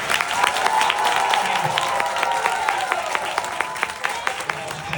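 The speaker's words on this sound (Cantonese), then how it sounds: "俾啲掌聲我哋嘅期間大嘅演員。" Theatre audience applauding an actor during a Cantonese-language stage musical, a dense, steady roar of many hands clapping close and loud for the full stretch, with faint talk underneath.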